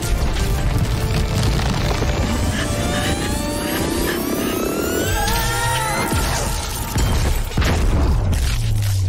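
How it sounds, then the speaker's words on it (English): A giant blue energy explosion from the movie Sonic the Hedgehog (2020) booms loudly, with a sweeping rising whine, a heavy pulsing rumble and crashing impacts that sustain dense and powerful throughout. "I'm sure no one noticed that giant blue explosion, right?"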